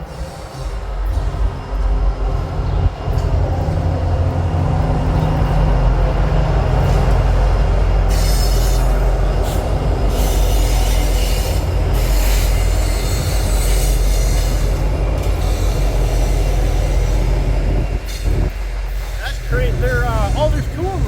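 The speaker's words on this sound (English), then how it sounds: "That is an Illinois Central locomotive." An Illinois Central locomotive passes at close range pulling auto rack cars, a loud continuous rumble of engine and rolling wheels with metallic squeals, and a person talks over it.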